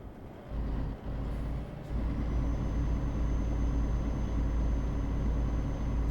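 A heavy truck engine in Euro Truck Simulator 2 drones loudly and steadily at full throttle, a constant low rumble that swells after a brief dip, with no voices over it.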